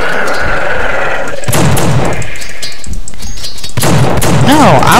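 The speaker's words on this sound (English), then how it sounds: "No, I was using a Tommy gun." Tommy gun firing in the horror video game The Suffering, loud bursts of rapid gunfire with booming impacts and crashes amid game noise, a voice talking over it.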